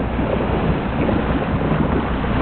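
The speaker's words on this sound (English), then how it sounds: "1971 with a Mercury 165 horse motor blurbing away back there." A 1971 boat on the Flathead River in Montana, powered by a Mercury 165 horsepower outboard motor, droning steadily under loud wind and water noise, with no voices.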